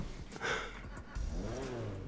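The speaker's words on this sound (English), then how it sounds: "Oh yeah, performance engine." Rune Cheburek with a performance engine revving in GTA 5, a mid-pitched rear-wheel-drive car engine rising and falling in pitch, fairly close and steady for about two seconds, with no talk.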